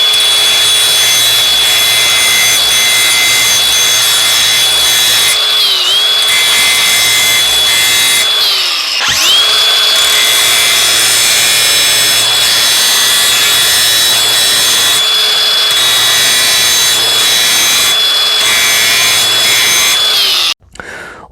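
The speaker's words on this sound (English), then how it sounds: "we're going to sharpen this chisel" A high-speed Craftsman brushless 20V angle grinder screams continuously and loudly, with brief dips in pitch as it bites into a metal chisel while sharpening it, then cuts out at the very end.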